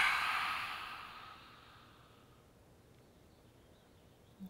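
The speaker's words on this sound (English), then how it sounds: "Tongue out, exhale." A person breathes out forcefully through the open mouth with the tongue out during a guided breathing exercise. The exhale is a breathy rush that fades over about two seconds into quiet, and a small click follows at the end.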